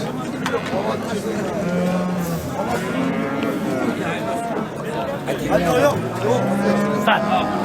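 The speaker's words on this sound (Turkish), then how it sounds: "Sağdan soldan geliyor inekler." Several cows moo repeatedly at a livestock market, some close and some farther off, with people chattering and calling in the background throughout.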